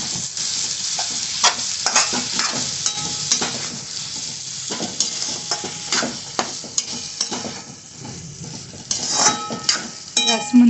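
A spoon stirs and mixes food in a pan over low gas, salt just added, with irregular scraping clacks and soft sizzling running steadily throughout, close and fairly loud, no talking.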